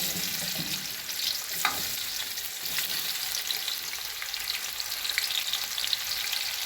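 Onions fry in oil in a pot as the base of a Nigerian tomato stew, giving a steady, close, dense sizzle and crackle that runs the whole time, with a faint stir or clink now and then and no talking.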